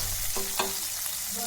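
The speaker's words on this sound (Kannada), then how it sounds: "ಇವಾಗ ಚೆನ್ನಾಗಿ ಇದನ್ನು ನಾವು ಫ್ರೈ ಮಾಡ್ಕೊಳ್ಳೋಣ" Food frying in a pan for a rice breakfast dish, a soft steady sizzle broken by a couple of quick stirring scrapes and taps close to the listener.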